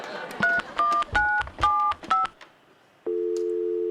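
A telephone keypad is dialed on a comedy sketch show: a quick series of about six touch-tone beeps in an uneven rhythm, followed by a steady tone on the line, with faint room sound between.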